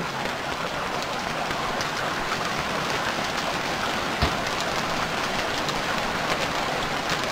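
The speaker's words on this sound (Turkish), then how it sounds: "Yağmur yağıyor." Steady, dense rainfall in the video game Stranded Deep hisses evenly throughout, with a brief soft thud partway through; no voices, just continuous rain on surfaces.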